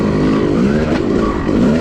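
Yamaha YZ250 two-stroke dirt bike ridden on a wooded off-road trail, a loud close engine revving and rising in pitch with a raspy, buzzing tone, no one speaking.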